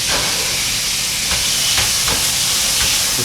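Korean-style beef tripe sizzling steadily as it cooks, a dense, loud, continuous frying hiss with faint pops and stirring clinks close by.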